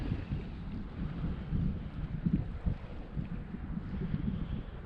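Steady wind gusts buffet the microphone with low rumbling noise at Lake Oroville Spillway, rising and falling throughout with no voices.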